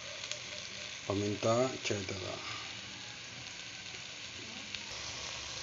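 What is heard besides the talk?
chicken feet with soy sauce simmering in pan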